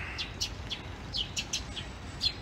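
A pair of sparrows chirps outdoors: a run of short, bright chirps repeating at an uneven pace, fairly faint over a steady background hiss.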